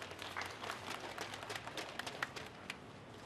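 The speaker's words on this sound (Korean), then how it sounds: "자, 박수 좀 부탁드리겠습니다." Audience applause at a press conference, steady scattered clapping from a modest crowd, moderately faint and continuous, with a few sharper individual claps standing out near the end.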